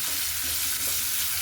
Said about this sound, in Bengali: এই জন্যই আমি এখানে পেঁয়াজটা ভেজে নিচ্ছি।